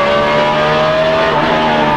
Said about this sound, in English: Let's listen to the engine here on Rusty's car.